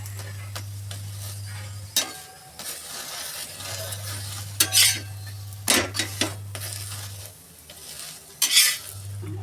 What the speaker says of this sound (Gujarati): આ રીતે બંને સાઈડ આપણે ફ્રાય કરવાનો છે પરોઠાને.